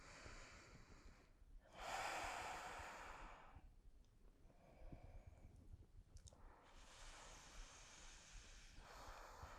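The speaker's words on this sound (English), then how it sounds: "Breathing deeply." Slow, deep breaths are drawn in and let out through the nose, each a loud airy rush followed by a quieter pause, close and alone.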